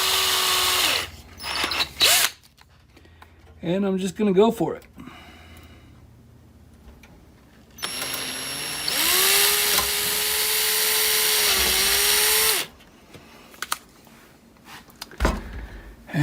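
An oversized power drill fitted with a standard bit whirs up in bursts, then runs for one long, loud sustained spell that rises slightly in pitch before cutting off, with a person speaking briefly before and clicks and handling noises after.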